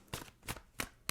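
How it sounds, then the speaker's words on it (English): Tarot cards being shuffled by hand, four quick riffling bursts in an even rhythm, close and fairly soft, with no voices. "2 more shuffles. 1 more."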